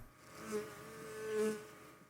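A housefly buzzes in a scene from a Breaking Bad episode, a steady drone that swells twice as the insect passes close, with no talk over it.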